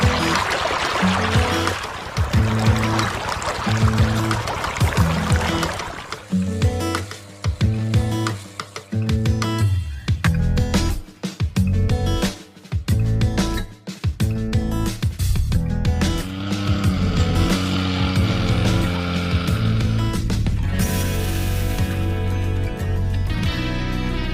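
Water pours and splashes across a farm field just laid with plastic mulch. The rushing and gushing is loud and close, mixed with a pump or engine drone and rattling that rises and falls.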